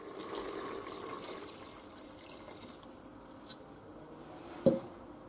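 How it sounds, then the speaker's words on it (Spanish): Water poured into a pot of potatoes, vegetables and meat cooked in a pressure cooker, a soft running splash fading over a few seconds, ending with a brief clunk, no talking. "y le echamos el agua"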